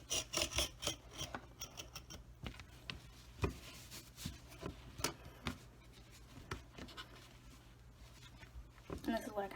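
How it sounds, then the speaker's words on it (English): An X-Acto craft knife cuts and tugs through fabric while wrapping squares for a craft project. Faint, uneven scraping and rasping strokes come close by, in short bursts. "if you use the X-Acto knife to cut the fabric, you will kind of have to tug at it a little bit"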